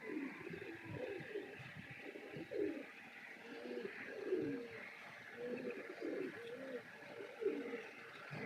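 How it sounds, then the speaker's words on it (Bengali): Pigeons coo nearby in a soft, continuous chorus of throaty, rolling calls that overlap one after another, with faint chirps mixed in over a steady outdoor background. "পায়রা চলছে।"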